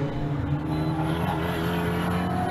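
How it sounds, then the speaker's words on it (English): Race cars on a circuit, one of them slowing noticeably with a possible fault, give a steady engine drone with tonal harmonics that hold level across the stretch, fairly loud and continuous with no talk. "I think Darin might have a problem with his car because he slowed down quite considerably a lot"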